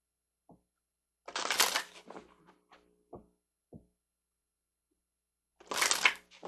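Tarot cards handled on a table: a few soft taps and knocks, then bursts of brisk riffling shuffles, close and quiet with silent gaps between.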